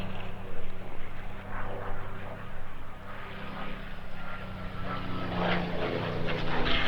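A propeller-driven warbird fighter flies past at the 2019 Power On The Prairie Airshow, a steady droning engine roar with a broad whooshing swell, fairly loud and continuous, with faint commentary underneath.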